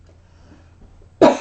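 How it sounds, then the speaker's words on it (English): A single short, sharp cough from a tarot reader, loud and close, breaking a stretch of near silence. "Famous little cough when I talk a lot in a reading"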